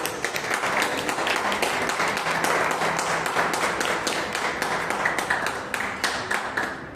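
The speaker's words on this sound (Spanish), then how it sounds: "¿Cuánto le dan un aplauso a Dios?" A church congregation claps together during a worship service, a dense, steady and fairly loud run of hand claps filling the room with little talk over it.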